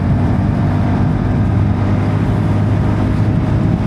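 A TVS Ntorq 125 Race XP scooter with a 124.8 cc air-cooled engine runs with a steady, smooth low hum and wind rush. The sound is unbroken for the whole stretch, with no voices.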